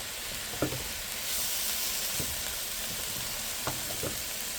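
Vegetables with frozen broccoli fry in a pan, a steady close sizzle with a few soft clinks and scrapes as the food is stirred.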